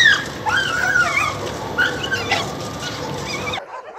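Stray dogs at an animal shelter whimper and yip in rising, wavering cries that overlap for several seconds, loud and close, before cutting off abruptly.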